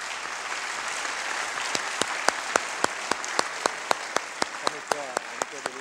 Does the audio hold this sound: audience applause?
yes